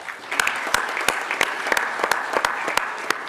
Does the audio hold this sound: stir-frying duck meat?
no